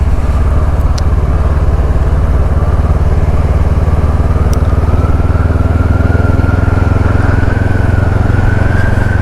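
Motorcycle engine drones steadily while riding a scenic island loop near Williamsburg and Jamestown, Virginia, a loud continuous low rumble with wind noise and a slowly rising tone, no speech over it.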